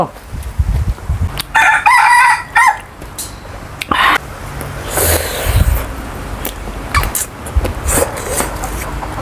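A rooster crows loudly in the mid-afternoon, one long harmonic call near the start followed by scattered clucks and other fowl noises over steady outdoor background.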